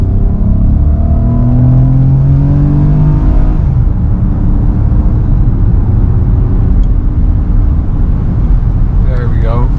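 A Lexus RX 350 luxury SUV pulls away under throttle, a steady loud engine drone with a rising tone through the first seconds, then smooth road rumble.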